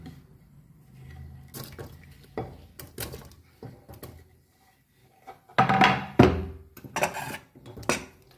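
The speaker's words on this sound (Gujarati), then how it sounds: "કુકર બંધ કરી દઈએ" A pressure cooker holding bitter gourds boiled in water is closed with a few metallic clanks and knocks of the lid, louder near the end, amid soft kitchen clatter.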